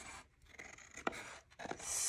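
Scissors snipping along a score line in paper for a mini junk journal, faint scratchy cuts and rustles close by, with a few short sharper snips and the sheet shifting near the end.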